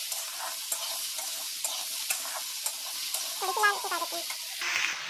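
Onions and other ingredients frying in a kadai, soft crackling sizzle with rhythmic stirring scrapes and a few brief metallic squeaks near the end, fairly quiet and close.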